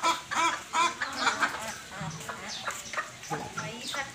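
Desi chickens on a small poultry farm, around a hundred birds in small houses, give repeated nasal squawks and calls in uneven bursts close by, with a person talking over them.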